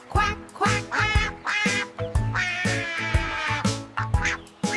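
A voice imitates a duck quacking in a nursery rhyme about five little ducks, a rapid run of loud, nasal quacks in a steady rhythm, close and clear.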